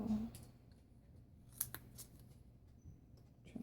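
Scissors trim paper craft pieces for a birthday bouquet dry erase board, making a few faint, quiet snips and rustles in a hushed room.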